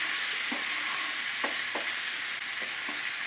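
Butter melting in olive oil in a pan while cooking basmati rice, giving a steady close hiss of sizzling with a few soft stirring clicks, no talk.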